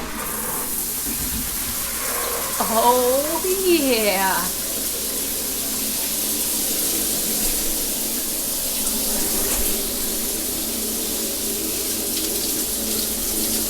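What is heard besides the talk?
water running from tap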